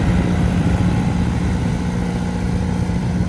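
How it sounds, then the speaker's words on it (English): A John Deere 2510 tractor drones steadily at close range while pulling a John Deere Model 44 plow with EEP bottoms across a field at a plowing contest, its low engine rumble continuous and loud throughout. "Perennial competitor Ron Kramer of Ohio competes here with a John Deere 2510, pulling a John Deere Model 44 plow equipped with EEP bottoms."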